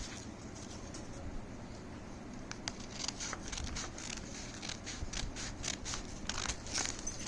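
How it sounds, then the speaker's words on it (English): Quiet, irregular scissor snips and crisp paper rustles from close by as paper is cut into strips for a mat, a series of short cuts over a soft background hiss with no talking. "you have to go on cutting it like this with help of scissors"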